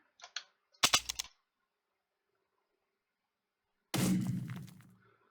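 A projectile exploding midair in a video game under development: a few sharp cracking pops early, then a louder burst near the end that decays over about a second, with silence between.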